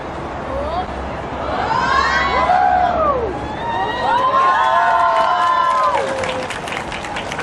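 A crowd at a Tai Kok Tsui community event claps and cheers for a woman who has just helped on stage, with rising and falling whoops and shouts over continuous clapping, close and lively throughout.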